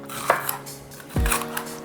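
A knife chopping onion on a board in a kitchen, with two or three distinct, fairly close cuts and a low thud, quiet and with no voices.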